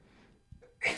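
One short, sharp sneeze bursts out after a faint intake of breath, close by and over quickly.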